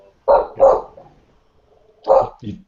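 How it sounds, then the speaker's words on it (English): A dog barking indoors nearby: two quick loud barks, a pause, then another bark followed by a shorter yip, with no talking. "Your dog's nice and loud."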